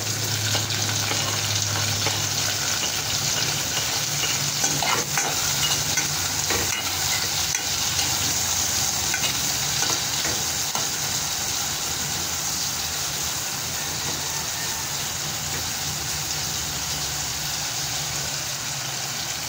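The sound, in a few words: ginger and tomato sizzling while being stir-fried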